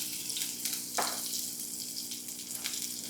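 Cumin seeds and green chili sizzle in a few spoonfuls of hot oil, a steady crackling fry with brief sharper bursts from the spices, heard close and alone without speech.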